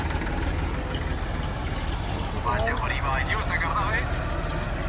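A tractor engine idles nearby with a steady knocking rumble at a Sikh Nagar Kirtan procession, and a person talks briefly partway through.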